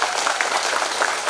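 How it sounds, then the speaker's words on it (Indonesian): A crowd at SMP Katolik Santo Yosef in Kupang applauds during the NTT governor's working visit, producing a steady, dense wash of clapping throughout with no voices over it. "kita tepuk tangan sekali lagi"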